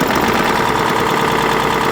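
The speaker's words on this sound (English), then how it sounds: "the engine was knocking and needed a full rebuild" A BMW X5 engine runs steadily and loudly, its rough, rhythmic knocking churning without pause; no voices.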